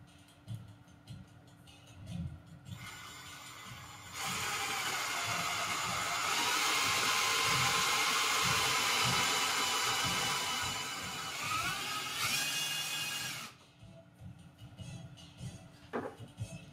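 A hand drill bores into wood through paper, its broadband whine rising loud and steady for about nine seconds after softer start-up bursts, then cutting off abruptly.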